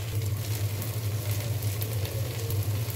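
Noodles with coriander leaves fry and get stirred in a pan, giving a steady, close hissing sizzle that continues throughout without pause.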